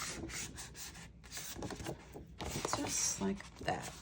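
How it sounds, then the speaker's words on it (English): Paper is folded along a scored line for a file folder journal, giving close, soft rustling and creasing rubs in short irregular bursts under quiet background sound. "And we're just going to go ahead and fold on that score."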